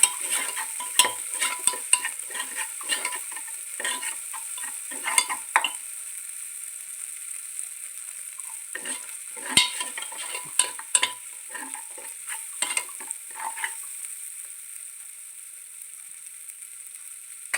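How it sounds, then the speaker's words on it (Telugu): Chili powder, garam masala and coriander powder frying for a potato, cabbage and pea curry give a thin high sizzle under frequent close spatula scrapes and clinks against the pan, coming in bursts with short pauses. "తర్వాత కారం గరం మసాలా ధనియాల పొడి వేయించుకుందాము"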